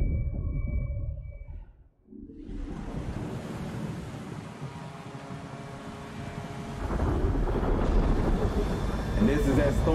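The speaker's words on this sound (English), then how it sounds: "And this is that storm that's been coming for a while now." Stormy weather in the video game Call of Duty Warzone: a steady roar of wind and crashing waves, fading briefly near the start and then swelling louder toward the end, with rumbling thunder-like swells and a voice talking over it.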